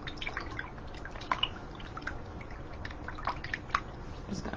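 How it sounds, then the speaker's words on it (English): A paintbrush swished and rinsed in a water cup, giving soft irregular drips, splashes and small knocks, close and gentle with no talking. "I'm just gonna rinse out my brush a bit."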